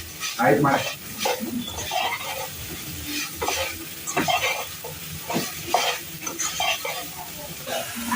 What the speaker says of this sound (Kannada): ನೋಡಿ ಗೈಸ್ ಇಲ್ಲಿ ಒಗ್ಗರಣೆ ಹಾಕ್ತಾ ಇದ್ದೀನಿ